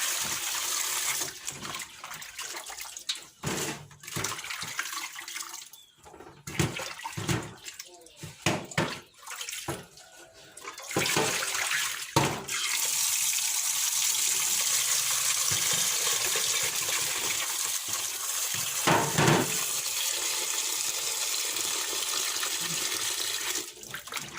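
Mangoes soaked in salt and lime water are rinsed by hand, with irregular splashing and sloshing that gives way to a steady stream of running water, close by and without talk.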